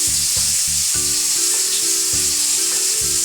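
Potatoes for a jackfruit curry frying in a pan, a steady loud sizzle with repeated stirring scrapes in a regular rhythm, close and alone without talk.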